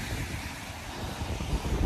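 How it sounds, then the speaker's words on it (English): Strong, gusty wind buffets the microphone beside a river on a grey day in Haverfordwest or Carmarthen, a steady low rumble with louder surges near the end, no voices. "As I say, extremely windy."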